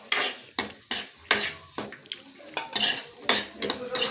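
Carrots frying in ghee for halwa are stirred with a metal utensil, giving a rhythmic series of loud, close clanks and scrapes against the pan over a faint sizzle, with no talking.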